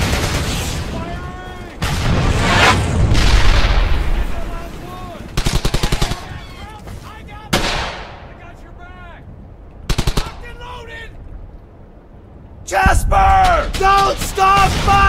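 Gunfire in the game Brothers in Arms: Hell's Highway comes as loud, sharp machine-gun bursts and single booming shots with echoing tails, interspersed with shouted voices and quieter gaps.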